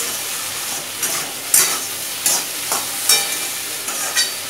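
Okra and potatoes fry in a pan with salt and turmeric, giving a steady close sizzle broken by several short bursts of stirring and scraping.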